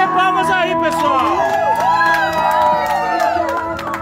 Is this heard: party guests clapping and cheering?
yes